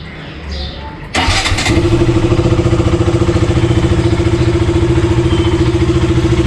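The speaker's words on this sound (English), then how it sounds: "So I'm going to leave the bike for idling for at least 2 minutes" A KTM Duke 200 motorcycle engine cranks and catches with a loud burst, then settles into a steady, throbbing idle close by.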